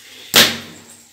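A single sharp clatter of a lid set down over a pan of fried fish in a home kitchen, a bright metallic hit that rings briefly and fades.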